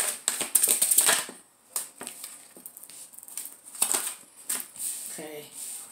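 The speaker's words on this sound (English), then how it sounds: "I'm going to pull a couple cards from the After Tarot just to see what's going on" Tarot cards are shuffled and drawn from the deck, giving bursts of crisp riffling and snapping card sounds separated by brief pauses, close and fairly loud, with a few scattered taps.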